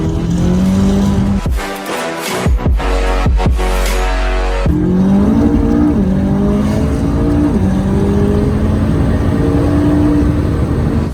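McLaren 570S fitted with downpipes, an aftermarket exhaust and a DME stage 2 tune, revving loud and close with sharp cuts between blips, then a sustained rising engine drone.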